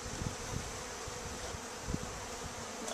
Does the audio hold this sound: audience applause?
no